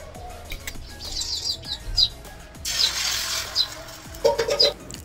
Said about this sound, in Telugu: ఇక్కడ పిట్టలు ఎక్కువ అయిపోయి పిట్టల సౌండ్ వస్తుంది అనమాట